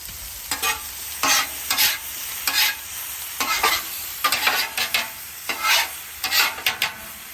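Hash browns sizzle on a Weber flat-top griddle under repeated bursts of a spatula scraping and shifting them, rhythmic strokes over a constant close hiss.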